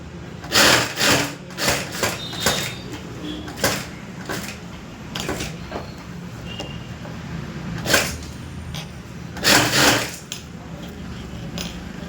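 A sewing machine stitching a boat neck with lining, in several short bursts of rapid whirring separated by pauses with faint handling clicks, close and fairly loud, no talking.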